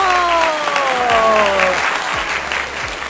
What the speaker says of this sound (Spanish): recibamos con un fuerte aplauso a Gabriel López